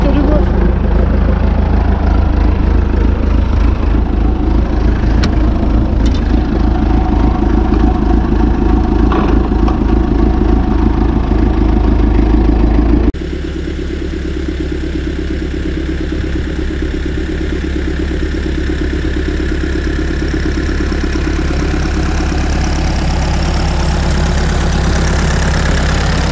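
A Massey Ferguson 865 tractor engine idling while hauling firewood in a wood, producing a loud, steady low diesel rumble with knocking clatter, which shifts to a slightly different tone partway through.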